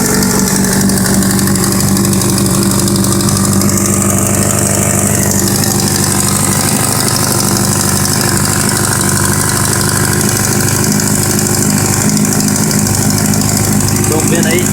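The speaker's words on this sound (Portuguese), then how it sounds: "Parece que tá batendo o motor, né?" Kawasaki Z750 motorcycle engine suspected of knocking, idling with a steady mechanical clatter and rhythmic ticking, heard up close without a break.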